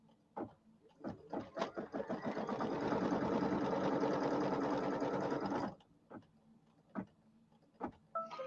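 An embroidery sewing machine stitches fabric in a hoop, starting with a few slow clicks and stitches, rising to several seconds of fast, steady close-up whirring, then stopping, followed by scattered clicks and knocks.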